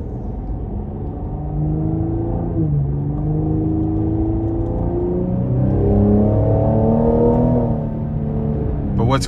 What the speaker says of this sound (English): when you really put your foot down into it, you start to feel those turbos come to life